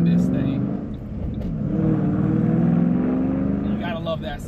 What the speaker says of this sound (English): You gotta love that sound.